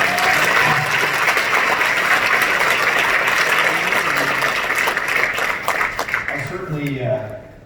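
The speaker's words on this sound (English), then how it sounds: "Let's give David a round of applause." Audience applause for David at a talk in Rockville, MD, steady and full from the start before thinning and fading out near the end, with some voices mixed in.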